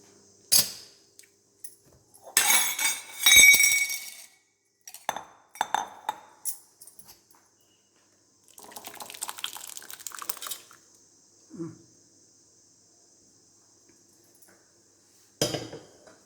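Cooked sundakkai dal is moved between metal vessels, with scattered utensil clinks, scrapes and clanks in irregular bursts and quiet gaps, close but moderate in level.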